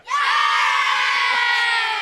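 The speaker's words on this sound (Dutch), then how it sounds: "Nou, dan mag je toch juichen voor jezelf?" Young schoolchildren cheer for themselves at a school celebration, a dense, continuous crowd of high voices shouting together at close range, swelling quickly and holding steady for a couple of seconds.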